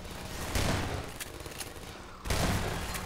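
Bursts of rapid gunfire crackle loudly in Half-Life 2, with a short lull before another heavy volley erupts near the end.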